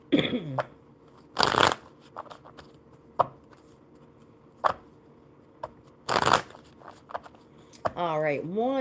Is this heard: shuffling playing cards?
yes